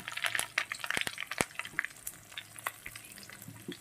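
Garlic and asafoetida frying in a pan, a close, continuous sizzle broken by sharp crackles and pops from the hot oil, heard alone with no talking.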